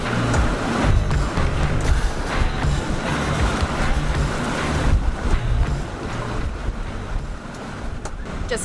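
A motorboat runs fast at 31 knots through waves off the Spanish Mediterranean coast, loud rushing water, hull slaps and buffeting wind noise filling the whole stretch without pause.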